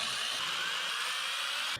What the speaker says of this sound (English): first I'm just gonna drill a hole right here